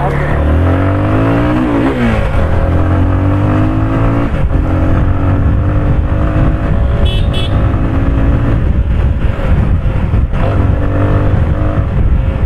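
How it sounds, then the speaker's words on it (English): A Yamaha FZ-S 25 250cc motorcycle engine revs and accelerates loudly and continuously, pitch climbing and dropping through gears, with a faint voice briefly under the engine noise. "So the lower end torque on this motorcycle is really nice."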